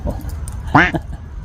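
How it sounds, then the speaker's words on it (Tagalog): A dog gives a single short, high whimpering yelp, brief and fairly close, amid faint background noise. "Ayun, may aso pa oh."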